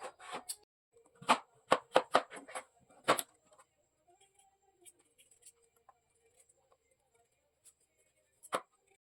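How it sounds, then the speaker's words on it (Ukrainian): Sharp knife chops through pumpkin against a board in a quick burst of several cuts, then quieter scraping and small taps, with one final chop at the end. "Тепер ріжу на кусочки, очищаю від шкірки."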